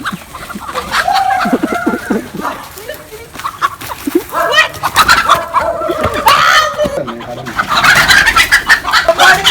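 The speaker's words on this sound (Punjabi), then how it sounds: "ਸਭ ਤੋਂ ਪਹਿਲੇ ਮੁਰਗਾ ਫੜ ਲਈਏ ਜਿਹੜਾ ਸਭ ਤੋਂ ਔਖਾ ਕੰਮ ਆ" A desi rooster clucks and squawks loudly while being caught, in agitated bursts that come and go over several seconds, with voices and scuffling nearby.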